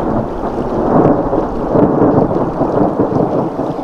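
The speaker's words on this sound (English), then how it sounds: "By the fourth night, a lightning storm moves in, and crews have to run nets between cells." A lightning storm over Storm Lake, Iowa, with loud rolling thunder and steady heavy rain, a continuous close rumble and hiss with no voices.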